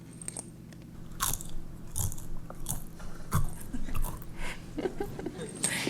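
Pringles potato chips are crunched and chewed in sharp, irregular bursts during a tasting experiment at a live event, loud and close, with faint room noise between bites.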